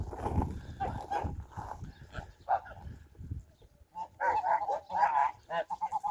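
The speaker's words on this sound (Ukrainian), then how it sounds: "У наших пташечок продовжується сніданок." Farm poultry such as geese and ducks feed at breakfast on a rainy, icy morning on a homestead, honking and calling in short bursts, sparse at first and then a livelier cluster of close honks near the end.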